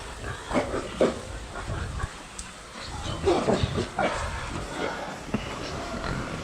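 Pigs grunting and snuffling in a shed on a snowy morning in Yorkshire, a busy cluster of overlapping grunts with a few sharper squeals, close by and continuous.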